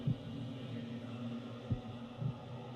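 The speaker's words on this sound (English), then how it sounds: "The constant heartbeat sounds adds to the creepy atmosphere." A heartbeat effect from Okami HD throbs in a low, muffled hum, with three soft thumps spaced irregularly under a steady droning background.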